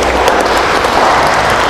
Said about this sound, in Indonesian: kita aplaus untuk beliau berdua ya